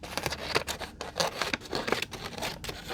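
Scissors snip through material in quick, uneven strokes, with crisp close-up cutting and crinkling sounds and no voices.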